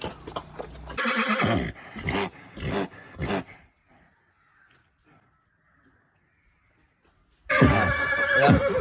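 A horse neighs in a string of loud, close whinnies, followed by a quiet gap and then another burst of neighing, with no talking.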